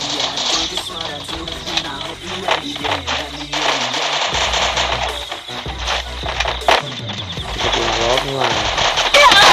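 Rapid bursts of gunfire from a Rampage Uprising game mode clatter through busy, overlapping game sounds and effects, loud and near, with a voice talking over the action at times.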